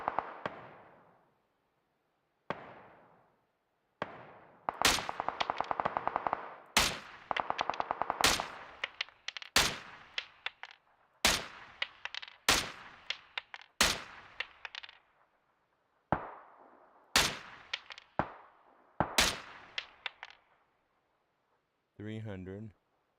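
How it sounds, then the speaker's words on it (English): Repeated gunshots from a firefight in the video game Arc Raiders, sharp loud cracks in irregular bursts separated by gaps, with one sustained stretch of rapid fire early on; no talking over them. "I hear the shots."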